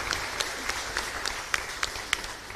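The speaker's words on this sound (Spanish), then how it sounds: "Fuerte aplauso entonces para nuestra comunidad." Applause for a chapel community at a live church gathering, rhythmic and moderately loud with distinct sharp claps standing out over a softer, continuous clapping wash.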